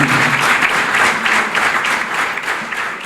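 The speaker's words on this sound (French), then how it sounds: "faire un applaudissement très nourri pour notre grand frère et chef de l'État" Sustained, dense applause from an audience at an official gathering honoring Benin's head of state, rising and falling steadily throughout with no speech over it.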